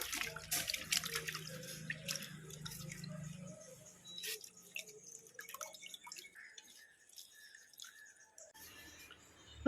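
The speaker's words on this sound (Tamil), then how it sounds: "அந்த தண்ணி இதில் தூக்கி ஊற்றுங்க" Water poured and dripping into a container while homemade clay is prepared, a steady splashing pour at first giving way to scattered drips and faint trickles, quiet and close, with brief soft voices.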